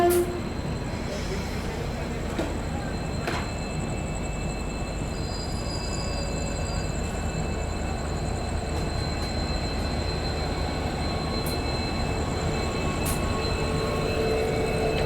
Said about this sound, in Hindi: बाकी भाई EMD की हमिंग साउंड अलग ही होती है।